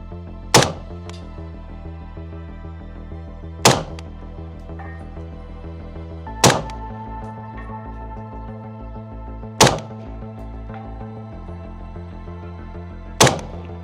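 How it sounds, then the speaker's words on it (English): A Sig MCX-Spear rifle chambered in 277 SIG Fury fires five loud, sharp shots a few seconds apart, each a sudden crack at an outdoor long-range shooting session, with a steady hum underneath between shots. "that was 4 shots in a row once I figured out the windage"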